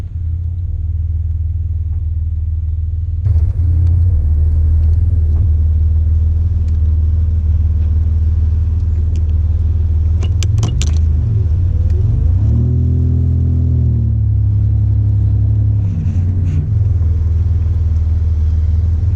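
Buick Grand National engine during ordinary driving, pulling out of a parking lot with a B&M Stealth Pro ratchet shifter: a steady, loud low rumble throughout, swelling with revving and shifting midway, no talk.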